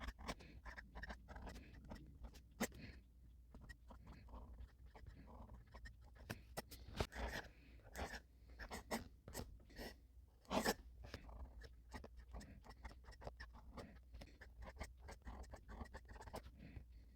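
A gold stub nib fountain pen writing on paper, faint close scratching strokes in irregular bursts with brief pauses, quiet overall.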